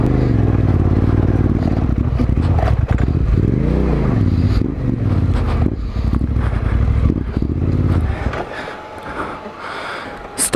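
A Yamaha Tenere 700 adventure motorcycle climbs rough desert terrain, its engine loud and close. The revs rise and fall in rhythm with clattering and scraping over rocks, then cut off abruptly near the end, leaving quieter wind noise.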